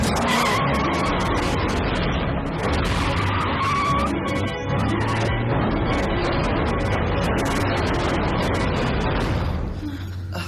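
Car tires screeching and skidding as a vehicle speeds off in an action TV episode, a loud continuous squeal with engine roar lasting several seconds, with no talking.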